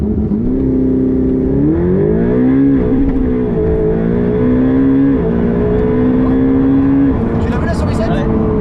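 A Ferrari 488 Pista launches and accelerates hard, its engine note climbing through rising revs with brief dips at gear changes, loud and close from inside the car, with people talking over it.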